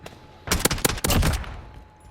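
Oden rifle in the game Modern Warfare firing a fast burst of roughly eight loud, sharp shots in about a second, close and punchy, with a short echoing tail afterward.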